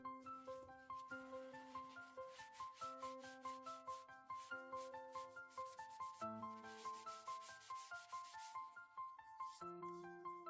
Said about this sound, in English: I smooth the entire spatula with a sanding sponge.